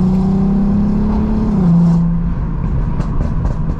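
Volkswagen Golf R Mk7 Stage 2 exhaust running a light overrun map, a steady loud drone that drops in pitch midway as the throttle lifts, followed by faint crackles over continuous road noise.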